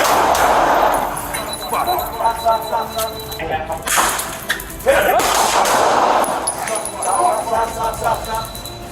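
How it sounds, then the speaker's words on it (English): Chaotic outdoor police confrontation with shouting voices, broken by a few sharp cracks of gunfire and a 40mm round amid the commotion. "When he suddenly moved toward them, a 40mm round and gunfire were used."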